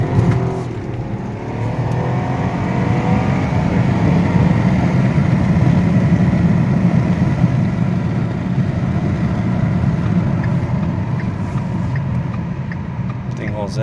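A 2013 Ford Taurus Police Interceptor AWD sedan with a twin-turbo EcoBoost engine accelerates hard, with a loud, sustained engine roar and rising revs heard from inside the car, and a voice speaking over it.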